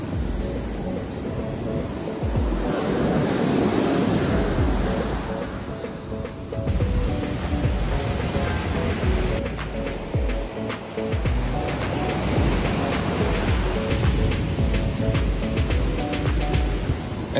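Ocean waves washing ashore at Chaweng Beach on Samui, Thailand, a steady broadband surf wash that swells and recedes continuously, fairly loud and close with no speech.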